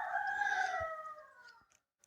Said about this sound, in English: The roosters hear me coming.